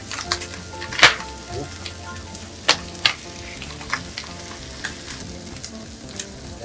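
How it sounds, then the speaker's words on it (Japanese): Fried rice with green curry paste and butter sizzles in a pan over low heat, a close steady frying hiss broken by several sharp scraping stir strokes of a spatula. "弱火でお米を焼くようなイメージで"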